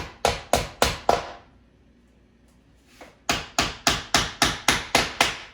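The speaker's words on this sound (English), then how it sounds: "hammer those in real good, okay?" Sharp, rhythmic hammer blows on nails into wood, a quick series, a pause of near silence, then another steady run of strikes, close and loud.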